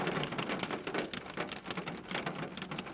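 Steady rain pours down, a dense, continuous patter of drops on surfaces that swells and eases slightly, with no voices.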